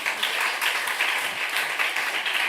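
A church congregation applauding at a Sunday service, with dense, steady clapping that fills the short moment at moderate loudness.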